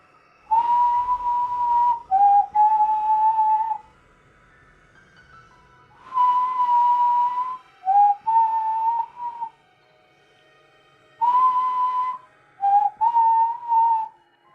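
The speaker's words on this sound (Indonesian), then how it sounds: "Suara itu lalu berhenti dan disusul suara siulan." Eerie whistling in a haunted house, coming from the TV room in a horror story: a clear, mid-pitched whistled tune repeated in three short phrases with silent gaps between them, heard alone.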